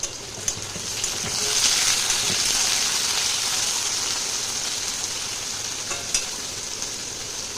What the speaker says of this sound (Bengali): কুমড়োটাকে ছোট করে কেটে নিয়েছি তো এই দেখো কুমড়োটাকে ভালো করে ভেজে নেবো